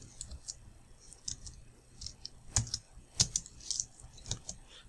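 Fingers tap a computer keyboard in an irregular run of light key clicks, a few sharper strokes standing out, close and moderately quiet with no talking over them.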